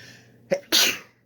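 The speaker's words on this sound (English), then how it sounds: "I'm gonna sneeze." One close sneeze: a short sharp intake catch followed by a loud explosive burst that trails off quickly.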